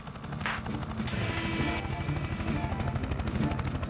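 A cartoon rescue helicopter from a children's firefighter show hovers with a steady, loud rotor chop throughout, its rapid rhythmic beat filling the scene alongside a brief higher whoosh early on.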